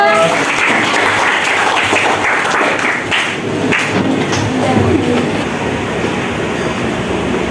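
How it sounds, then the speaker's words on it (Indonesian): A classroom of students claps for a presenting group, a broad steady wash of hands that runs throughout with voices mixed in. "Tepuk tangan untuk kelompok 3."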